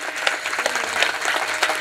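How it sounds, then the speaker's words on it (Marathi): An audience applauds the singers and musicians at a kirtan, a steady wash of many clapping hands filling the room at a fairly close, even level. "गायक वादकांसाठी एकदा मोठ्याने टाळी वाजवता का?"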